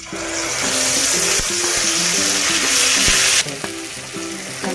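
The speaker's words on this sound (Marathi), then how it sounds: "तेल सुटेपर्यंत असं परतून घ्यायचं" Spice masala paste fries loudly in two spoons of hot oil for a chickpea curry. The sizzle is close and continuous and is sautéed with steady stirring; it drops sharply near the end, and no voice is heard.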